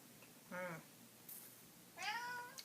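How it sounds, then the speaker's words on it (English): Two distinct cat meows, the first short and the second longer and rising, close by with quiet room noise between them and no talking. "Shut up, cat."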